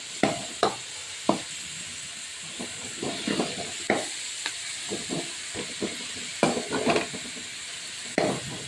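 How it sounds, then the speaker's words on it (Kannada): Spinach (palak) fries lightly in oil in a pan for chicken palak gravy, a soft steady hiss broken by repeated sharp clicks of stirring against the pan. "ಫ್ರೈ ಆಗ್ತಾ ಇದೆ. ಫ್ರೈ ಆಯಿತು."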